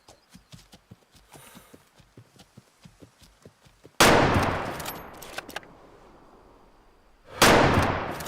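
Rifle shots in the hunting game Way of the Hunter: two loud, sharp blasts with echoing tails, one midway and one near the end, after a stretch of quiet rhythmic clopping footsteps.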